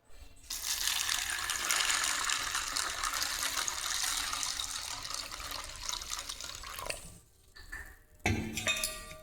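Hot water pours in a steady, rushing stream for several seconds onto kidney beans to soak them, then stops, followed by a few clinks and a short splash.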